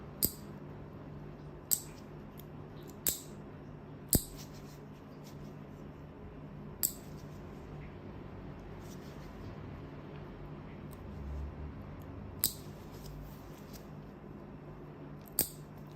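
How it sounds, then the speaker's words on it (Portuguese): Scissors snip the free edge of a fiberglass nail, eight sharp, distinct clicks spaced every one to three seconds, close and crisp over a quiet background. "E vou começar cortando a borda livre."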